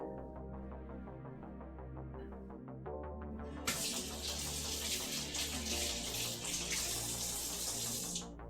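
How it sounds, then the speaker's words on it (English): Tap water runs into a sink during handwashing in a kitchen after cooking, a steady close splash that turns louder and broader partway through as the flow increases, with no talking. "Let me wash my hands."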